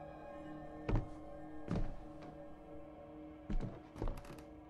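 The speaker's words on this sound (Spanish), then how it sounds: "Escucho pasos." Faint, hollow footsteps in the horror video game Visage, a few dull thuds spread unevenly over a low ambient hum, some landing in quick pairs.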